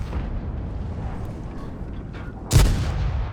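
A single LT-432 tank cannon shot in a video game on the Glacier map booms out sharply near the end, one loud blast over a low rumbling engine hum.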